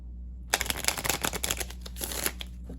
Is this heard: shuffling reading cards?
yes